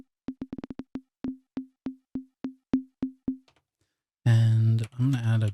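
An Ableton Operator synth with its envelope looping on a single MIDI note gives a string of short percussive blips, first a quick accelerating flurry and then evenly spaced repeats that fade out, followed by a voice speaking.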